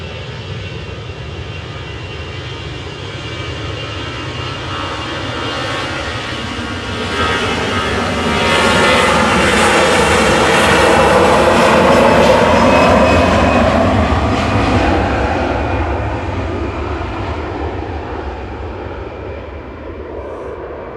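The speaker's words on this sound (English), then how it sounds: "Tui from Alicante's just going over the threshold, just touched down." A TUI airliner arriving from Alicante crosses the threshold and touches down at Manchester Airport, its engine roar swelling loud and close, peaking mid-pass with a sweeping whine, then slowly fading away.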